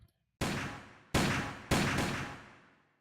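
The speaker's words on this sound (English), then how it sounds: "another bullet fired from the barrel of the gun" Three sharp gunshots from a sound effect in the G Senjou no Maou visual novel, each a loud crack with a long decaying tail, the second and third close together with no voices.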